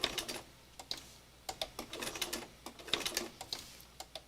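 A sewing machine runs slow machine stitching in short, uneven bursts of rapid mechanical clatter separated by brief pauses, close and fairly quiet, with no talking.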